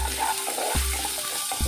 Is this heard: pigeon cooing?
no